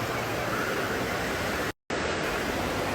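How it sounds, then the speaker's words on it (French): Wave pool at the Europa-Park water park, heard as a steady, loud broadband wash of churning water with no voices, cut by a brief dropout near the end. "J'adore les piscines à vagues, je trouve ça tellement drôle."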